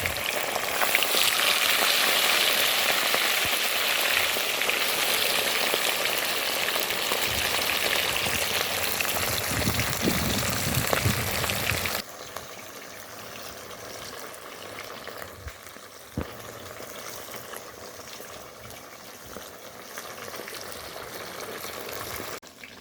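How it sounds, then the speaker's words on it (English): Fish frying in sizzling hot oil in a pot gives a loud, dense crackle for about twelve seconds, then drops to a quieter, steadier sizzle with a few sharp pops. "You want to wait until the oil is sizzling hot before you add your fish to the pot"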